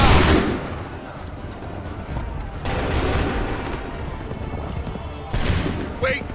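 Musket volley gunfire in the video game Assassin's Creed 3 Remastered, several loud crackling bursts of massed shots separated by rumbling battlefield noise, with voices shouting orders in between.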